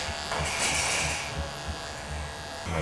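A hair clipper fitted with a 1.5 blade buzzes steadily as it cuts hair, a close, continuous electric hum with slight changes in tone as it moves through the hair, and no voices.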